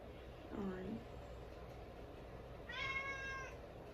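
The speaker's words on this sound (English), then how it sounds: "My cat's meowing like, alright." A house cat meows twice indoors, a short low call followed by a longer, higher meow, both fairly clear over quiet room noise.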